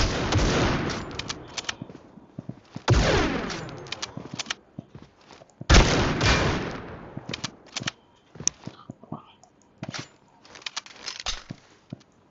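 Sniper rifle shots ring out in a video game, several loud sharp blasts each trailing into a long decaying echo, mixed with quicker bursts of gunfire and scattered clicks and footsteps.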